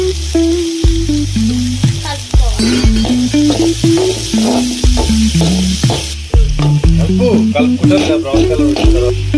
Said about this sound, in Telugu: వేడైన తర్వాత ఉల్లిగడ్డ మంచిగా కలుపుకోవాలి.